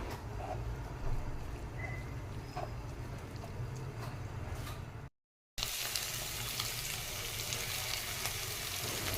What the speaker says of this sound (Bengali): মশলাটা এবার ভালো করে কষে নেব।